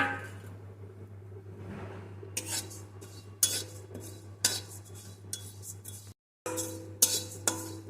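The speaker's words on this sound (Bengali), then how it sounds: "এর ভিতরে আমি এখন দিয়ে দেবো কয়েকটা গোটা জিরে এটাকে আমি একটু ভেজে নেব" Whole cumin seeds dry-roast in a hot wok, heard as repeated metal scrapes and clinks of a spatula over a low steady hum, fairly quiet and close, with one brief dropout.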